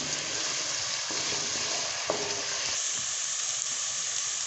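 Onions fry in hot oil in a pan while a chicken and pea salan is cooked, a steady close sizzle with occasional stirring scrapes and no voices.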